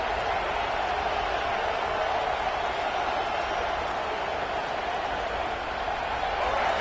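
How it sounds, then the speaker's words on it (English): A dense, steady roar of a large American football stadium crowd, loud and continuous throughout with no single voice standing out. "this crowd is fired up. Listen to this noise here"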